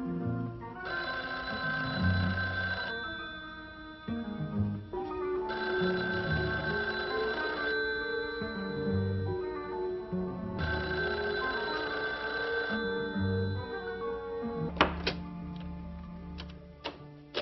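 Landline telephone bell ringing unanswered indoors, three long repeated rings with pauses between, then a few sharp clicks and taps near the end.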